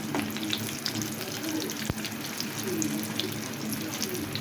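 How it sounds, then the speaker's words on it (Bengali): Eggplant fritters (beguni) fry in oil, making a soft continuous bubbling sizzle with light clatter and one sharp knock, at a moderate level, without talking. "এখানে বেগুনিটা আমার ভাজা হয়ে গিয়েছে"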